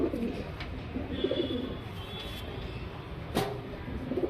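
A Gulzar pigeon coos in soft, low repeated phrases against a steady background hum, fairly faint and close, with a couple of sharp clicks and no talk.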